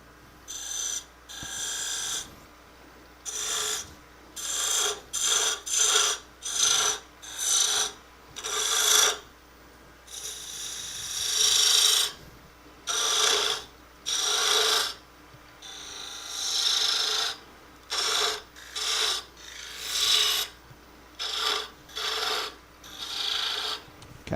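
Wooden spin top being textured on a spinning lathe, giving a series of repeated rasping, scraping bursts of a tool against the wood, each lasting about a second with short pauses between, loud and close with no talking.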